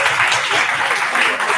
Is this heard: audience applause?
yes